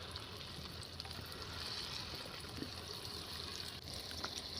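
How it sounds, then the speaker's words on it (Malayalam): Unniyappam batter fries in hot oil in an unniyappam pan with a steady, soft sizzle and bubbling crackle. The sound stays continuous and fairly quiet throughout, with no voices. "എന്നിട്ട് നമ്മൾ ഉണ്ണിയപ്പച്ചട്ടി വെച്ച് എണ്ണ ഒഴിച്ച് നമ്മൾ ചുടുന്നുണ്ട്."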